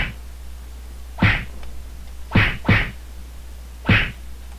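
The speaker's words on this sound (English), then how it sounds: "every time the spike ball goes around once, you'll hear the punching sound effect" Punching sound effect in a Flash stick-figure animation, four sharp thwacks at uneven intervals, the middle two close together, loud and isolated over a faint low hum.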